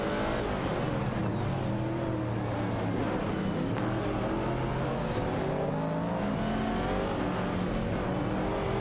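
Race cars in a computer racing game circling the track, a dense, continuous roar of several engines at once, with overlapping pitches rising and falling steadily at a moderate level.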